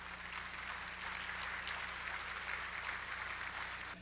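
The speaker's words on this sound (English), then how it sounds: "let's give a round of applause for the producers" An audience at a large anniversary dinner of about a thousand people applauds the producers, a dense, steady clapping from many hands that fills the room for several seconds before tapering at the end, with a low hum underneath.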